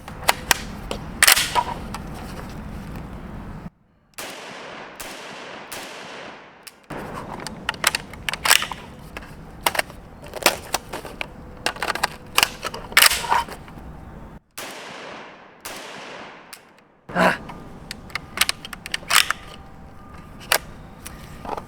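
A PTR 91 GI model rifle fires .308 rounds in a series of sharp, loud, close reports, spaced irregularly with a couple of longer pauses, each crack followed by a brief ringing decay.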